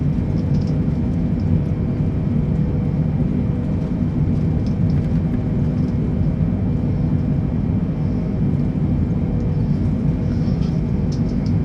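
A Boeing 747 touches down with reverse thrust engaged in a flight video game, set in hurricane conditions; a steady, loud, broadband engine roar and rumble continues unbroken throughout with no pauses.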